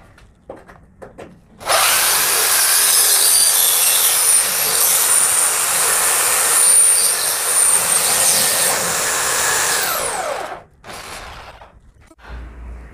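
A power drill fitted with a hole saw bit grinds steadily through ceramic tile in one loud sustained cut lasting about nine seconds, starting and stopping abruptly, with quieter handling noises before and after.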